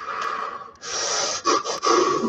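Deep breath drawn in and let out during a mantra meditation, a close, breathy inhale followed by audible exhaled puffs, with no talk.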